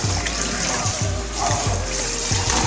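Water sloshes and drains from a container while crawfish are being rinsed, a continuous close splashing trickle with small clattering bumps throughout.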